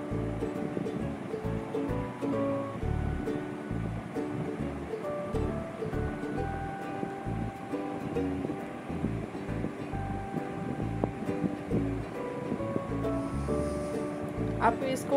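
Chana dal fries in oil toward a light brown with a steady, close, dense sizzling hiss that runs throughout while a person talks over it.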